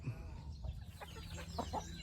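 Chickens kept at a rural Thai homestead near rice paddies cluck in short, scattered bursts, fairly faint and a little distant, over a low steady background.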